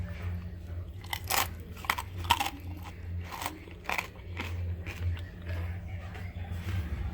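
Close, faint crunching bites and chewing of baked crispy pork belly, a series of sharp crackly crunches at irregular intervals over a low background hum.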